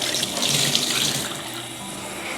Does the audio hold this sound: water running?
yes